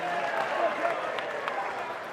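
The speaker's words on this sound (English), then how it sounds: "you hear the cheers from the crowd there" A college baseball crowd at an NC State vs Florida State game cheers and claps from a distance, a soft wash of applause sitting beneath a play-by-play commentator's voice.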